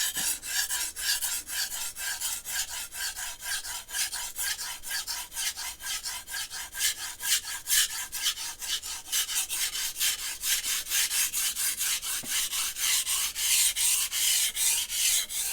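A knife blade being sharpened on sandpaper, a continuous close rhythmic rasping of steady back-and-forth strokes, bright and gritty, growing slightly louder toward the end with no talking.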